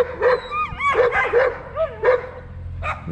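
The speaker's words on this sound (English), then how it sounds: "Lucy, do something about those intruder dogs." A dog barks in short, yippy bursts, about six of them with whining pitch glides between, loud and close, over low background noise.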